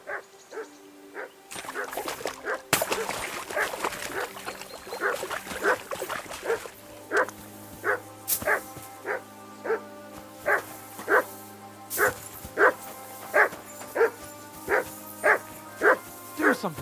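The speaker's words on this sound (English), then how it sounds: "Do something with that mutt, Henry." A dog in Kingdom Come Deliverance 2 barks in a steady repeated rhythm, moderately close, over game ambience and music, with a few voices speaking early on.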